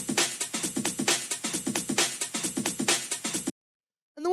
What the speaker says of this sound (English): the last drum that we have here before I show you the group processing is the breakbeat